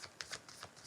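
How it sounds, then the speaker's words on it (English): Soft, quick riffling of playing cards, a few brief papery bursts in a quiet room. "Just shuffle."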